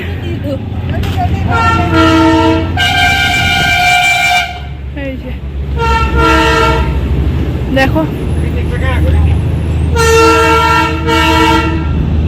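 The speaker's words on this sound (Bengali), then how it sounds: "এদিক দিয়ে ট্রেন আসছে।" A diesel train arriving at Ghum station near Darjeeling, its loud horn blaring in several long close blasts over rumbling engine noise, with people talking nearby.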